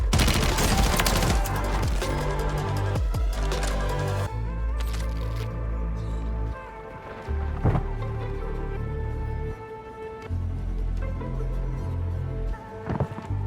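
Gunfire in a first-person shooter game: loud rapid bursts of automatic fire at the start, then scattered single shots and short volleys against a low game background, with no talk.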